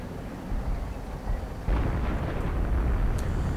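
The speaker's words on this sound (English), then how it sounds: "More artillery goes off, killing 1 unfortunate engineer." Artillery shells and explosions in a Company of Heroes-style 1v1 World War II strategy game, a steady low rumbling roar that jumps to a louder, denser barrage halfway through, with a faint crackle near the end.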